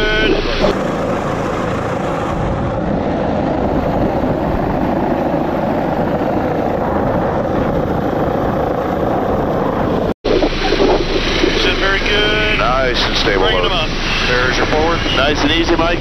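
Rescue helicopter hovering over the Cactus to Clouds Trail near Palm Springs during a hoist rescue, its loud steady rotor and engine roar with wind buffeting filling the whole stretch, briefly cut at one point.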